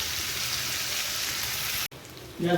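Fish fry in a hot pan on a low gas flame, giving off a steady, bright hiss and sizzle that drops out for a moment, then resumes as a quiet voice speaks over it.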